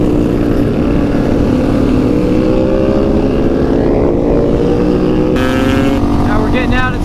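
A motorcycle revving hard as the rider pulls a wheelie on a group ride toward Centralia, Pennsylvania, the engine note climbing and shifting under steady wind and road noise, with a voice talking over it.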